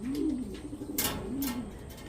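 Cooing from racing pigeons fills a loft at a Tanay, Rizal club training race, two clear rolling coo phrases rising and falling nearby, separated by brief rustles and flutters.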